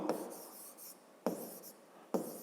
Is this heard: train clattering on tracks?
no